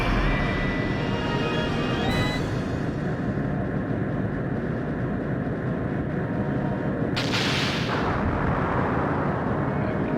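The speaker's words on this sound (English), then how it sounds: "Torpedoes coming in." Heavy explosions from incoming torpedoes in the video game Skies of Arcadia Legends, a continuous loud rumbling barrage with a sharp burst partway through.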